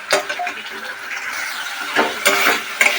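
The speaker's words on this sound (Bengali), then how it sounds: "মশলাটা আরও কিছুক্ষণ ভালো করে কষিয়ে নেব।" Masala spice paste for eggplant curry fries and gets stirred in a pan, a soft hissing sizzle broken by scraping bursts of the spoon, with faint voice in the background.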